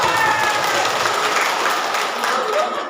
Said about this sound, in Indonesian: Tepuk tangan buat mereka.